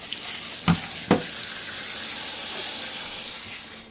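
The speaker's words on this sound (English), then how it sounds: "put them in a colander. You want to rinse those off really well." Dried beans being rinsed in a colander under a running tap make a steady, close hiss of spraying water, with two brief clunks near the start and no talk.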